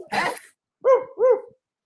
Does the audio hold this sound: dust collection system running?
no